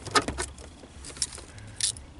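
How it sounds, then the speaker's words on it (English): Plastic four-wheel drive shift bezel on a 1996 Jeep Cherokee XJ being pried out of the console, a few sharp close clicks and rattling snaps spread over two seconds, with no talking. "getting ready to take the four-wheel drive shift bezel off. Just pops out."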